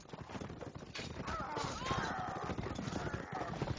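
Horses in a video game battle give off fast, busy hoof clatter mixed with clashing battle noise, while a commentator talks over it throughout.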